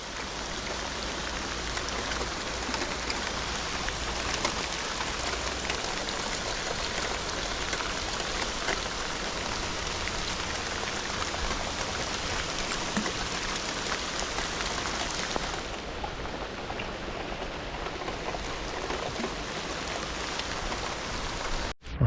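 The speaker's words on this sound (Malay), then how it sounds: "Hujan geng, hujan." Steady, dense rainfall patters down continuously during freshwater prawn fishing, a broad hiss with close droplet texture, unbroken for the whole stretch with no voices.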